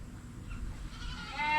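Goats bleat out in a field during fall breeding season, a couple of calls rising near the end, fairly close over a low background rumble.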